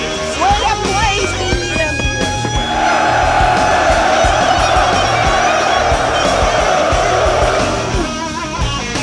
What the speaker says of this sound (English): And the crowd goes crazy. Absolutely crazy.